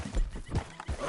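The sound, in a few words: horse galloping in video game Red Dead Redemption 2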